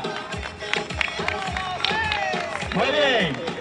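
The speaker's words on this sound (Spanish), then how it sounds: "¡Fuerte aplauso!" Crowd claps and cheers at a bicycle handover during a Día de Andalucía cycling march, bursts of applause mixed with a loud announcer's voice and crowd chatter.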